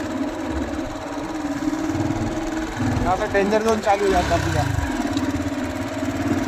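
A motorcycle engine runs at a steady idle on a forest track in a tiger reserve, a mid-pitched putter that rises briefly in the middle while people talk over it nearby.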